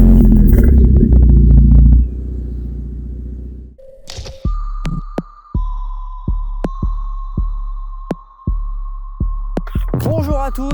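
A Volkswagen Golf 6 GTI Edition 35 starts: a loud rumble, a brief pause, then the engine catches and settles into a steady idle hum broken by regular sharp ticking clicks, close up with no talking.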